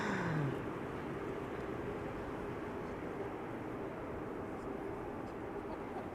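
A jet airliner lands at Amsterdam Schiphol Airport on a sunny day, a steady, broad engine roar from a close distance holding at an even level throughout.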